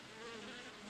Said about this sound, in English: But I did find the bee's nest